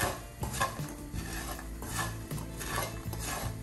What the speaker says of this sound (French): On continue toujours de mélanger, hein, on ne s'arrête pas.